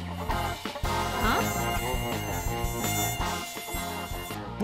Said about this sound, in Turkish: Burada sivrisinek mi var?